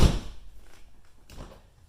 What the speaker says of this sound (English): put it in all the way to the bottom, then close the door.